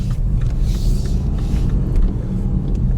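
Car engine pulling away in second gear on a rural road, a steady low rumble of engine and road noise that holds at a constant moderate level, with no voices.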